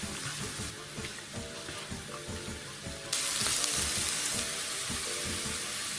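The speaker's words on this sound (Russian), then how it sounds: "Грибы. Обжариваю их," Onion, carrot and mushrooms fry in a pan while being stirred, a steady close sizzle with scraping and clinking utensil strokes, the hiss growing louder partway through.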